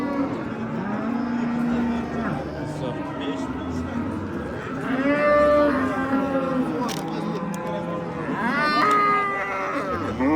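Cattle mooing at a busy livestock bazaar in Oqtepa, Bulung'ur district, several long, deep lowing calls from nearby cows repeated across the scene, with people talking and bargaining around them.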